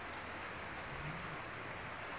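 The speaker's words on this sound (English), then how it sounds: "And, well, this is some serious rain." Heavy torrential rain during a thunderstorm at a pumpkin patch, pounding on shade netting: a dense, constant hiss that stays steady throughout, fairly faint, with no voices.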